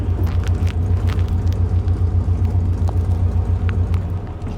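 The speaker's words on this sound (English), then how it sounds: "I suppose you guys can watch while I drive there to the next one" Steady low engine rumble of a car being driven through a wooded area, with an even droning hum and faint road noise continuing throughout, no talk.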